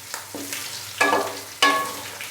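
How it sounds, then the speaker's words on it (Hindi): Ginger-garlic paste sizzles and fries in a hot pan, with a couple of sharp stirring scrapes that bring bursts of louder crackling. "अदरक और लहसुन के पेस्ट को हल्का सा फ्राई करेंगे"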